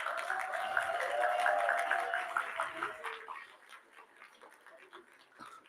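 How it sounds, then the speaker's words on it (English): An audience applauds the MCs at a poetry event, a steady broadband clapping that starts loud and slowly thins out, with a sustained tonal voice or cheer riding over the first three seconds. "Let's have a big round of applause for the MCs for today."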